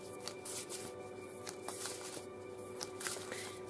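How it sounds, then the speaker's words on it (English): Oracle cards being shuffled give a soft, continuous papery riffling and shuffling, close and quiet, with no talking. "This is the last shuffle, and then we'll pick the oracle card."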